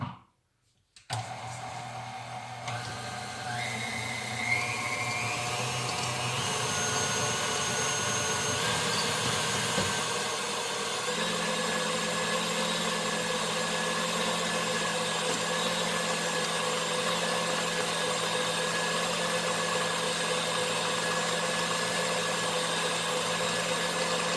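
Electric mixer whirring steadily while creaming butter and sugar for cookies, a continuous close motor hum that starts abruptly and shifts pitch slightly as the load changes, alone throughout.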